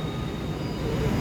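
Argo Parahyangan stainless steel passenger train of the 2018-2019 batch, all executive class, heard running on the rails as a steady close rumble with faint wheel noise, no voices.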